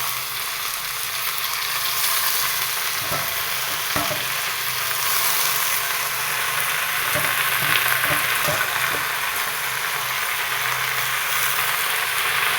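Greens and onions sauté in a hot pan with a steady, dense sizzle that runs unbroken from start to finish, broken now and then by faint clicks and scrapes of stirring.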